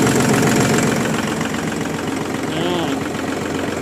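A 2019 NT540 turbo tractor, fitted with a front blade and plough, runs at a steady idle with a low, rumbling, slightly knocking engine note, loud and close, holding constant for the whole stretch.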